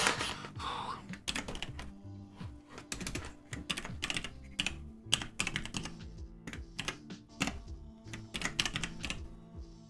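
A new password for a MikroTik RB5009 router is typed on a computer keyboard: dense, close, irregular key clatter running continuously with varied loudness throughout.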